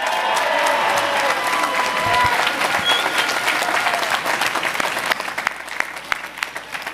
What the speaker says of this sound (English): Give Jennifer a round of applause